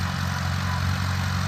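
A Farmall A tractor engine runs steadily at idle, a low, even rumble with a slight chug that holds constant and close throughout the short stretch, with no voices over it.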